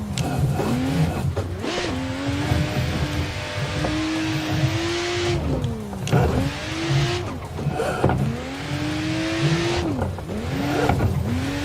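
Car drifting and sliding in Assetto Corsa, a loud continuous engine roaring and revving in repeated rising and falling waves, with tire noise throughout and no talking.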